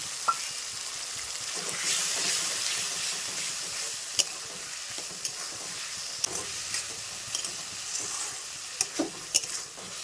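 A spice paste of ginger, garlic, onion, cumin, coriander and chilli, loosened with a little water, sizzles and bubbles continuously in a pan in a village kitchen. Light spoon clicks and scrapes of stirring come through close up, and nobody talks.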